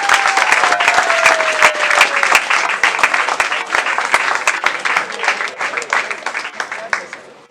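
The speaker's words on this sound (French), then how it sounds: "Je vous demande de l'applaudir frénétiquement." Loud, dense applause from an audience at a school scholarship award event, sustained clapping that gradually thins out toward the end, with a faint tone running underneath.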